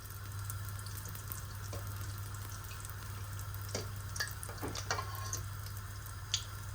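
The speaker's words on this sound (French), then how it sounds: "mon sponge est en train de cuire dans la friteuse" Sfenj dough, a Moroccan-style fried beignet, sizzles in a deep fryer with a steady hiss and scattered crackles and pops, alongside a low constant hum and no speech.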